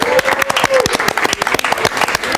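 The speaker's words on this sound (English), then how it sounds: "Round of applause for him." Applause from a studio audience on a morning news show, a dense burst of clapping lasting a couple of seconds, fairly loud and close with no talking over it.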